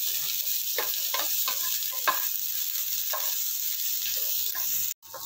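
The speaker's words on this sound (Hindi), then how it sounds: "ये देखिए ऑनियन ब्राउन हो गया है" Onions roast in a hot pan for a prawn curry, a steady close sizzle broken by several scraping strokes of a spoon stirring, ending with a brief knock.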